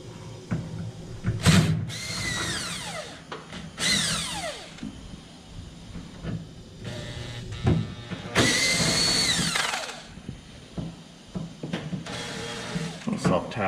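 A power drill drives self-tapping tech screws while mounting a cooler on a 1969 Chevelle, with repeated short whirring bursts separated by pauses and voices talking in between.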